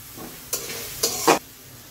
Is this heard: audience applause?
no